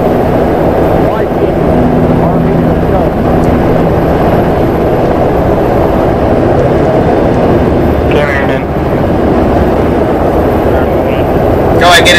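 A military helicopter in Arma 3 runs with a loud, continuous engine and rotor drone that stays steady throughout, while players talk over it on team radio.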